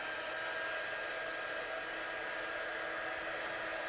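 A hair dryer blows a steady, even whoosh at moderate distance while drying watercolour paint on a card, unbroken for the whole stretch with no talking.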